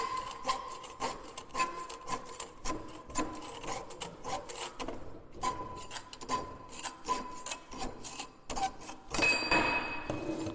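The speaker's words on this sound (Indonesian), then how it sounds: "Mungkin kita dapat melihat dalam menggergaji ini besi terpotong" A hand saw cuts through iron on a workbench, with rhythmic rasping back-and-forth strokes, close and fairly loud, repeating steadily and ending in a final burst of scraping.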